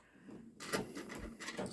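A Babylock Solaris embroidery machine stitching a white section at a raised speed of 600, with a steady mechanical chattering whir and rapid repeated needle strikes that starts after a brief quiet moment and runs on close and fairly loud.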